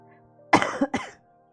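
A short burst of two or three harsh coughs close by, sharp at first then trailing off, in an otherwise quiet room.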